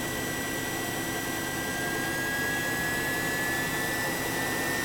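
Steady whirring fan drone with a faint tonal whine, rising in pitch as the fan speeds up to near full speed, constant and fairly loud throughout, no voices.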